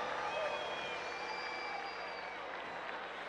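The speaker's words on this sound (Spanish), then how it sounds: "Aplauso para todos los cubanos." A concert crowd at a Cuban-themed event keeps up steady, distant applause that stays fairly faint throughout, with no clear individual claps standing out.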